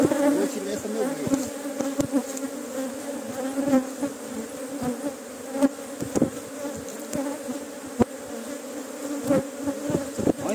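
A honey bee colony buzzes at the hive during honey harvest: a dense, continuous drone of many bees with occasional louder passes close by, no talk.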